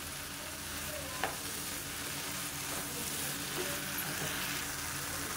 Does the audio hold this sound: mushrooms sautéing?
yes